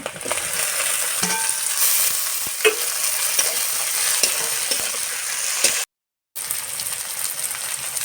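Chopped tomatoes tipped into frying onions with green chilies in a pan, a strong continuous sizzle with spoon scrapes and clicks, broken by a short gap of silence.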